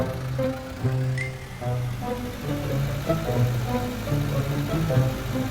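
A tractor engine runs steadily at idle, a low rumbling drone with slight fluctuations, heard fairly close with no talking.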